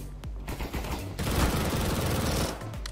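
A Kriss Vector fires in CS:GO in dense, loud automatic bursts, rapid rattling shots that run almost continuously for several seconds.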